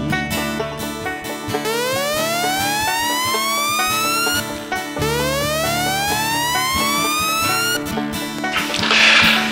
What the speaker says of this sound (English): The sailor dozing in a 6-foot bunk, dreams broken by a screaming siren squeal.